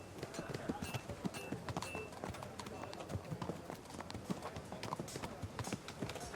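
Horse hooves in the medieval role-playing game Kingdom Come Deliverance 2 clatter in a rapid, steady clip-clop that runs throughout, close and fairly loud, with other game noise mixed in.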